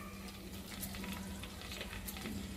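Chillies sizzling and frying in hot ghee for mushroom biryani with coconut milk, a steady close crackle with occasional stirring, no talking.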